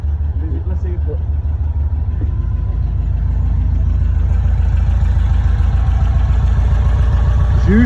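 A 1975 Volkswagen Combi T2b Westfalia engine runs with a loud, close, low rhythmic rumble that holds steady throughout, with faint voices in the background.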